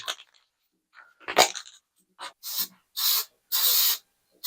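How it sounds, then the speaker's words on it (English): Rust reformer is sprayed from an aerosol can onto a rusty washing machine, several short hissing bursts that grow longer toward the end, with some light rubbing and handling noises between them, close and without speech. "I'm just going to use this rust reformer again just to make sure anything that I sanded will be good"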